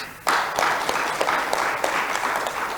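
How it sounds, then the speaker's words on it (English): A crowd claps steadily for a few seconds, a dense patter of applause that starts abruptly and holds at an even level. "Let us give them a round of applause."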